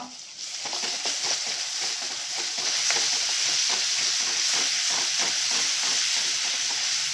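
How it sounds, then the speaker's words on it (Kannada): Ground masala paste frying in hot oil for a restaurant-style kala chana curry, a steady close sizzle with crackling pops and faint stirring throughout, no talk. "ಇದು ಎಣ್ಣೆಯಲ್ಲಿ ಸ್ವಲ್ಪ ಫ್ರೈ ಆಗಬೇಕು"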